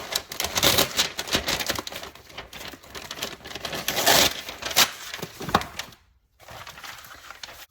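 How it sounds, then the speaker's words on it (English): A sheet of freezer paper torn by hand, heard up close as a loud run of crisp crackling rips and rustles, with a brief pause near the end before more rustling. "tear a sheet of freezer paper"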